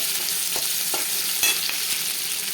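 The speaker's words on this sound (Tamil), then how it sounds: "கட் பண்ணி வச்சுருக்க வெங்காயத்தை போட்டுக்கலாங்க. வெங்காயம் நல்லா வதங்கட்டுங்க." Chopped onions sautéing in hot oil with cumin seeds for a paneer curry, a steady close sizzle broken by a few light stirring scrapes, no voices.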